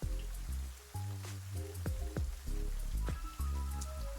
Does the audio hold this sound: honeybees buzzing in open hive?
no